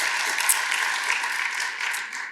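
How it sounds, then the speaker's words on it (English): An audience at the Cranbrook President's Award for Excellence ceremony gives a round of applause. The clapping is steady and moderately distant, a continuous wash across the short stretch that tapers slightly toward the end. "I think they deserve a round of applause for putting this together."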